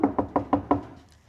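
Five quick, evenly spaced knuckle knocks on a ceiling over a stud, solid and dull-toned, close and distinct, then silence.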